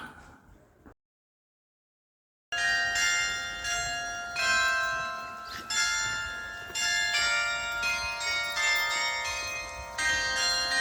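Carillon bells on a town hall ring out a tune after a brief pause, bright clear tones overlapping and sustaining at moderate distance in the open street.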